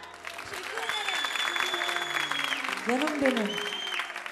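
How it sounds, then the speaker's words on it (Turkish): Live audience applause at a Turkish music show, a steady wash of clapping running through the clip beneath a voice and music. "oh, alkışlar."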